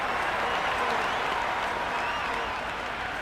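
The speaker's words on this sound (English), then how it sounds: "Will you listen to that crowd? They are loving this." Dense, sustained roar of a stadium crowd cheering and applauding at an India vs Sri Lanka T20 cricket match in Trivandrum, steady and loud throughout with no let-up.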